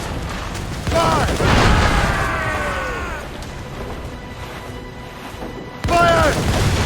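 Heavy naval cannons fire in a ship battle in Assassin's Creed Rogue: a loud boom with a rumbling tail, then another sharp blast near the end, with shouting voices over the gunfire.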